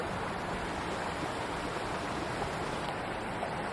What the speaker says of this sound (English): A trail on the Iron Creek, surrounded by rocks along the creek.